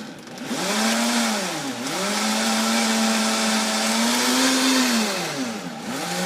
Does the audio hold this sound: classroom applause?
no